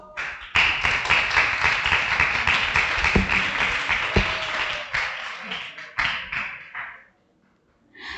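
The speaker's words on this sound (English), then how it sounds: "please give our first speakers a very big round of applause" Conference audience applause for the first speakers at an ASEAN campus forum: sustained, loud clapping for about six seconds with a few sharp thuds, then it breaks off briefly, resumes, fades into near silence and returns faintly.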